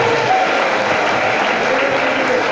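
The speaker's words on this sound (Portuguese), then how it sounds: "Aplauda o Senhor." A congregation at an evening church worship service claps loudly and steadily, a dense wash of applause filling the room.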